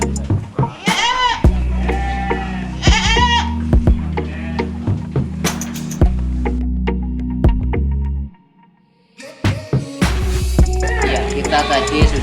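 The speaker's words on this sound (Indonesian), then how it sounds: "kita lanjutkan perjalanan kita untuk cek lokasi ternak domba" Sheep bleat at a livestock farm, with several loud, close calls and overlapping bleats against steady background noise, broken by a short quiet gap near the end.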